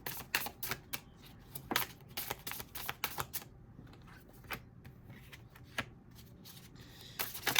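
Tarot cards being shuffled and laid down one after another, crisp close flicks and soft taps in irregular bursts with quiet pauses between.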